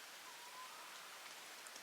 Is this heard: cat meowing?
no